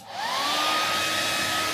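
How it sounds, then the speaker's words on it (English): A tiny hair dryer blows hair dry with a steady, close whirring hiss and a high motor whine that rises as it spins up, then holds constant. "let's dry the hair with this tiny hair dryer that was in my digs."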